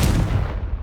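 A spell blast from the Hogwarts Legacy video game on PS5 hits as a heavy, booming burst that fills the whole sound and then decays quickly in under a second, loud and close, with no voices.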